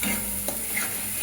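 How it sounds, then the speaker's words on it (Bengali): Onion paste being stirred as it fries in a pan: a steady close sizzle with a soft scrape of the spoon partway through, no voices. "পেঁয়াজটা এবার আমি কিছুটা নাড়াচাড়া করে ভেজে নেবো"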